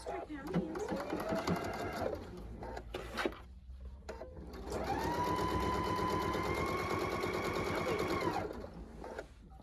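A sewing machine stitching a quarter-inch seam on a lacy zipper bag whirs in a short run, pauses, then hums in a longer steady burst, close and clear, with someone talking throughout.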